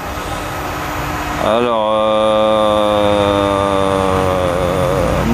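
An electric motor driven by an Altivar 212 variable frequency drive on a heat pump rig hums steadily, then its tonal whine rises and holds loud and continuous. A voice speaks briefly.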